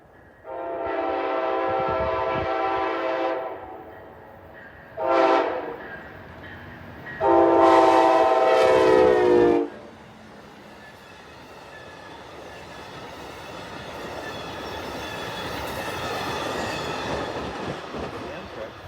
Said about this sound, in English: Next train was a northbound Amtrak with the ALC 42 Phase 6 paint scheme number 330 leading